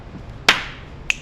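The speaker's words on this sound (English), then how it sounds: "Somebody clap." Two sharp, isolated claps in a quiet room, with the second coming about half a second after the first. The first is louder and the second is quick and lighter, with no voices over them.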